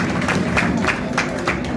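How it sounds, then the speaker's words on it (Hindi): Audience applause at the opening ceremony of the Jhelum Cricket League Season 5, a steady dense clapping from a crowd throughout with a faint voice underneath. "आप लोगों की भरपूर तालियां एक दफा होगी उस टीम के लिए।"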